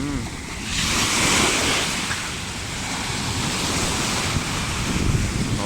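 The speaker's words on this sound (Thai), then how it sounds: "คลื่นทะเลครับผม" Sea waves wash onto a beach near Chonburi on a windy day, a steady broad surf roar mixed with buffeting wind noise on the microphone.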